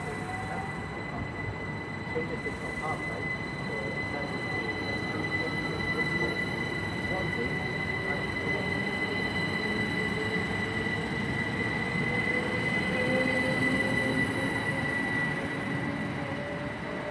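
Class 387 electric trains, units 387-136 and 387-133, pass through Tilehurst station bound for Didcot Parkway, giving a steady loud rolling rumble with a faint wheel squeal throughout and no speech.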